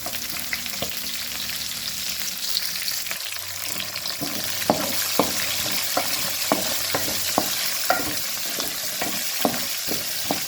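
Chillies and onions fry in a pan with a steady close sizzle, while regular scraping strokes of a spatula stir them throughout and nobody speaks.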